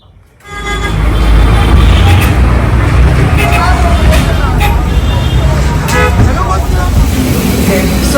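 A car drives along a road in Liberia, with a steady, loud low engine and road rumble running continuously throughout, plus occasional passing traffic sounds and no talking.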